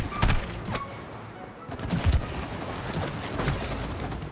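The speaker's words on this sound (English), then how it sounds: "I'm just shooting at whatever you're shooting at." Gunfire in the It Takes Two co-op game rings out amid a dense, busy mix of game sound, with rapid bursts and thumps running throughout.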